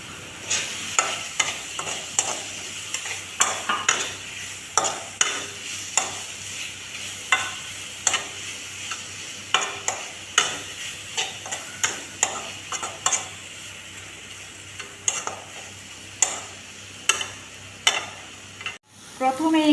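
Fried kakrol (spiny gourd) is stirred into a sizzling spice masala in a pan, with a close, continuous frying hiss and a brisk run of repeated spatula scrapes and knocks.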